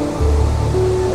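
Steady rushing roar of a waterfall in hilly country near a docked ship, a loud, continuous broadband wash of falling water without breaks or voices.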